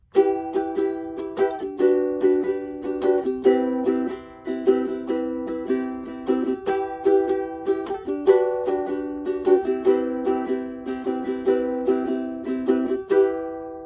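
Steady strummed chords on a ukulele, a bright repeating down-up rhythm with chord changes every couple of seconds, played alone and close.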